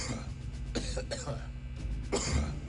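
A soldier in Return to Castle Wolfenstein gives a couple of rough coughs and throat-clearing bursts, close and fairly loud over a low droning game ambience.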